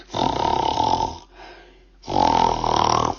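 A voice imitates loud snoring: two long, rasping inhaled snores separated by a short quiet breath.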